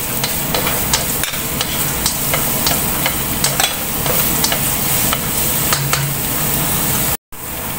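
Garlic frying in oil in a pan, a steady close sizzle with light stirring scrapes and clicks running throughout, briefly cutting out near the end.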